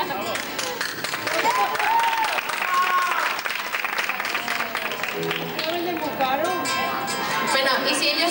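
An audience at a town festival in Es Coll d'en Rabassa, Mallorca, claps along while voices chatter and call out over it, the clapping steady and busy beneath the talk.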